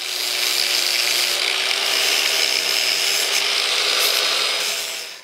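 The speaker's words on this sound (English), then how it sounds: "little kiss with a sander, and now we have a nice smooth shape that'll go into the sail" A power sander grinds steadily against wood for several seconds while shaping a sail batten, a loud, continuous rasping whir up close that tapers off at the end.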